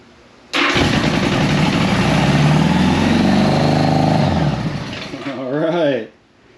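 A 1975 Honda Goldwing 1000cc motorcycle engine fires up abruptly and runs at a high, fast idle near 3,000 rpm, loud and close, then drops off sharply after a brief rev near the end.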